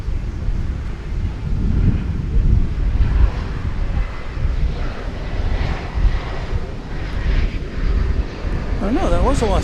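An American Airlines jet on flight 1348 to Los Angeles at Dallas Fort Worth Airport sends out a loud, low engine rumble buffeted by wind, with a voice talking over it and a whistling whine rising near the end.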